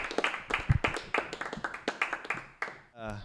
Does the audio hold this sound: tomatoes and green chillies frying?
no